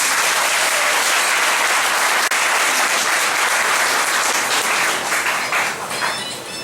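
An audience at a political gathering of a democratic organization applauds steadily and loudly throughout, a dense wash of clapping with no voices on top that thins slightly near the end.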